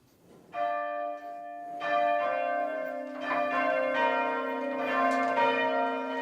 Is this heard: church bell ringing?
yes